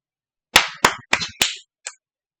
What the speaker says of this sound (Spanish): Se ganó mi aplauso, se ganó mis respetos.